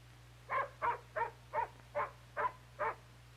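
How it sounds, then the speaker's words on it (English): A dog barks seven times in an even, steady rhythm, each bark short and moderately loud at mid distance, over a low constant hum, with no talk. "looks like the Johnsons have a new dog"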